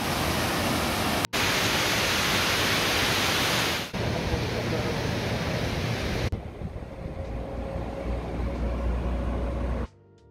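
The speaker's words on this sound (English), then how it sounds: "Listening to the dam over there, to the water, really beautiful area." Water rushes over a dam in the Muskoka area as a constant, loud broadband roar, heard from changing nearby positions with abrupt shifts in level, then cutting off at the end.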